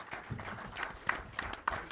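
Applause from the audience at a NASCAR press event, a steady patter of many hands clapping throughout with no voices over it.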